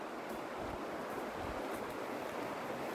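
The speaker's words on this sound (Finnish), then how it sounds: "Joki virtaa tuossa niin." Steady broadband rush of a flowing river during a summer fishing trip, continuous and even throughout with no distinct events, moderately loud and close.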